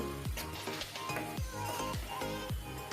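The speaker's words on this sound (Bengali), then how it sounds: "ভালো করে মশলার সাথে কষিয়ে ভাজা ভাজা বোনা বোনা করব।" Dried Bombay duck fish stir-fried with spices in a pan gives a soft continuous sizzle, with repeated scraping strokes of a spatula and light metallic clinks at a steady rhythm, heard close with no speech.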